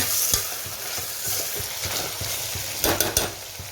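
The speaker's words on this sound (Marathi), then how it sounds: "दोन मिनटं तेल सुटेपर्यंत मस्त परतून घ्यायचं." Pumpkin and chana dal sauté in hot oil, giving a continuous close sizzle with regular scraping stir strokes from a spoon against the pan.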